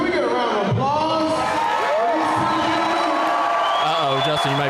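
Fight-night crowd at a Synergy FC event cheering and whooping, a dense sustained roar with individual shouts rising out of it, loud and continuous throughout.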